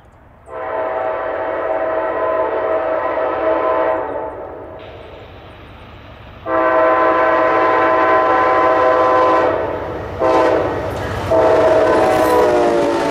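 Amtrak P089 passenger train passing near a road crossing, with long loud sustained horn blasts in several pulses over continuous rumbling wheels and cars, the horn cutting off briefly then sounding again.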